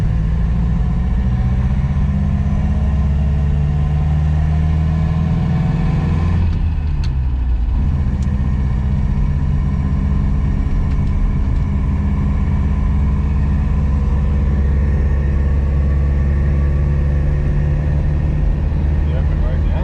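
A Morris Oxford engine pulling steadily in fourth gear on an open road, a loud continuous low drone with a brief dip partway through, as the driver talks over it.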